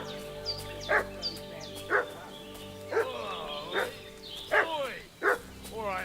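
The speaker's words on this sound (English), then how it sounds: "What's that dog making such a fuss about?" Several sharp dog barks and yips ring out at a steady pace from a medieval village in Kingdom Come: Deliverance 2. Other voices are heard throughout.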